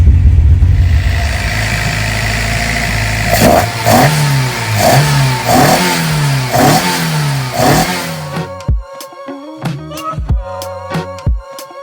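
A Toyota AE86's engine, just brought back to running after repair, revs hard in a series of rising and falling bursts up close, then drops away to choppy, sputtering blips.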